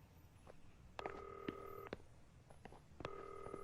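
A telephone being dialed indoors: short keypad tones, then two longer paired-tone beeps about two seconds apart, each with a clear steady pitch over quiet room noise.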